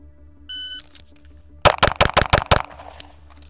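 Rapid string of seven pistol shots from an Atlas Apollo with a 4.6 inch ported barrel during a timed shooting drill, loud and sharply spaced, preceded by a short electronic timer beep.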